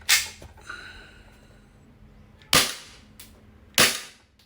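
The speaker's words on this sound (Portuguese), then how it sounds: "Posicionei a máscara ali e vamos pro disparos." A gas blowback airsoft Glock pistol fires three sharp, loud cracks at a protective mask, one shot and then two more spaced about a second apart, each crack followed by a brief ring.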